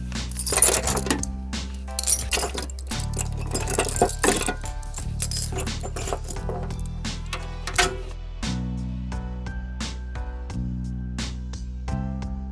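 Metal ratchet head holders for 1/4, 3/8 and 1/2 inch drives are handled near by, giving repeated bright clinks and clacks of metal on metal over a steady musical backing.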